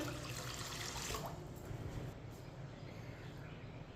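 Water from a glass streaming into a cooking pot while making masoor dal: a continuous, gentle gurgling pour lasting several seconds, quiet and close, no voices over it.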